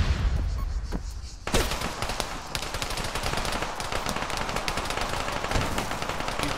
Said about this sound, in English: I'm getting shot at from north.